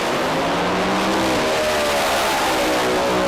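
A pro mod drag racing car at the British Drag Racing Championship roars steadily under load, a loud sustained engine note with rising harmonics and no commentary over it.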